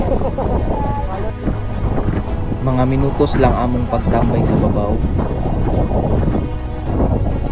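Strong cold wind buffets the microphone on the Mt. Pulag summit in bad weather, a constant loud rush, while people talk over it.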